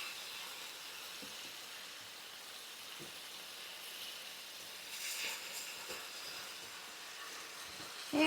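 Steak and vegetables for a lo mein stir fry hiss softly in a hot pan while being mixed, a faint steady sizzle with occasional scraping clicks.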